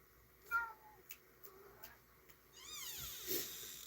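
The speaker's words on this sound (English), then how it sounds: "My cat was meowing at a semi-open door" A domestic cat meows at a half-open door, several short separate meows followed by a longer, rising, drawn-out cry, fairly close and alone against a quiet room.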